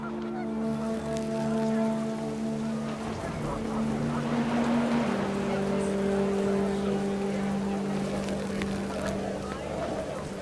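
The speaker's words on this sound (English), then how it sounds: "The wind picked up, and panicked geese appeared and quickly went." Panicked geese honk in the video game What Remains of Edith Finch, sustained tonal calls over a constant low rumble of wind and ambience, lasting the full span alone without talk.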